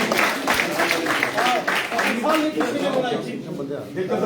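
Applause at a political party meeting welcoming new members, steady dense clapping through the whole stretch with a voice speaking over it.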